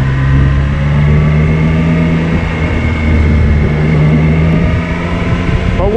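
A Triumph 660 Daytona motorcycle engine drones steadily and loudly while pulling away, with a low, even pitch and slight wind noise around it.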